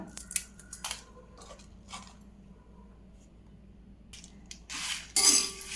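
Dried Kashmiri red chillies are snapped by hand into a pan of warm coriander seeds, giving a few crisp crackling snaps and rustles up close, then a louder rough scrape near the end.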